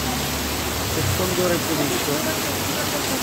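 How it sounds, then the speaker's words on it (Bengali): Heavy rain pours down in a steady, dense hiss that fills the whole stretch without a break, while someone talks briefly over it. "এখানে প্রচুর বৃষ্টি হচ্ছে আজকে"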